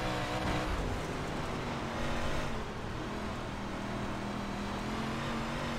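A 358 Modified dirt race car in the iRacing game roars continuously at Dirt USA Speedway, its engine a dense, steady drone that swells slightly and eases off, with no speech over it.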